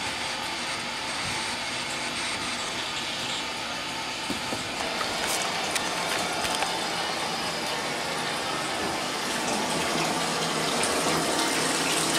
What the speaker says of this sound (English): Was that you that turned the water on in the bathroom?